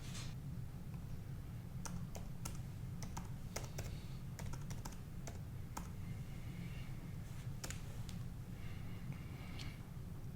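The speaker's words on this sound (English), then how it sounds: "entering one of the camera IP addresses into the address bar" Steady keyboard typing on a laptop as a camera IP address is keyed into a browser, with irregular clicking keystrokes over a constant low hum, close and fairly quiet, no talking.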